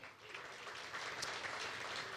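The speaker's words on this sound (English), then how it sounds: "Let's get our hands clapping, all right?" An audience at an awards gala applauds, a sustained wash of many hands clapping that carries on steadily throughout, heard from a distance and fairly faint.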